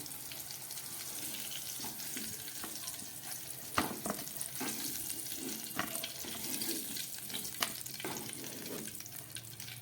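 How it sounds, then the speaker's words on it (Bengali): Continuous hissing and crackling of pointed gourd frying in oil with salt and turmeric, with occasional clinks and stirring knocks throughout; no one speaks. "পনিরের পকোড়া ভাজার তেলের মধ্যে আমি 1 মিনিট ধরে পটলগুলোকে ভেজে নিলাম নুন হলুদ দিয়ে"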